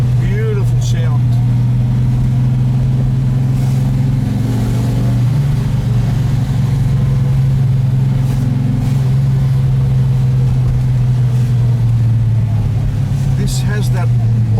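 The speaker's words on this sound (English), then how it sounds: "This has that old school V8 sound. It's got like a metallic in it." A Ford GTHO Phase 3 tribute's old-school V8 rumbles steadily up close with a metallic edge, holding a constant drone with small rises in pitch, while a person talks over it.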